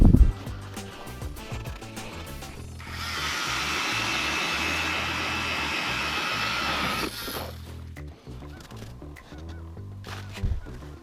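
A power ice auger bores a fresh hole through frozen lake ice during panfish ice fishing in central Iowa. It makes a steady, loud grinding roar for about four seconds, with quieter knocks and shuffling before and after.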